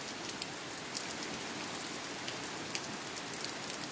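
Steady rain falls and patters on a surface, a dense, even hiss with scattered sharper drops, continuous throughout with no voices.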